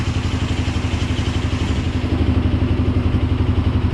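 A Shark 220 ATV engine runs steadily with a throaty, pulsing low rumble and a slight mechanical clatter, close and unbroken throughout.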